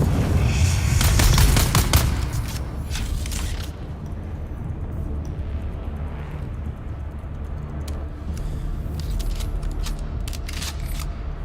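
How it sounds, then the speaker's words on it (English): Grenade explosions burst in Dune Awakening during a firefight, with loud, dense blasts and crackling impacts in the first seconds, then a lower rumbling tail broken by scattered sharp cracks. "Are you just going to spam fucking grenades at me or what?"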